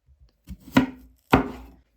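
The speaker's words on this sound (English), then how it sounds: "Chop off the ends of my sweet potato." Two sharp knife chops through the ends of a sweet potato on a cutting board, close and distinct, about half a second apart, with a faint tap before them.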